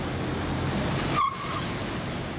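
A car braking hard, a sustained road and engine roar that ends in a short sharp tire squeal before the noise drops to a lower hum.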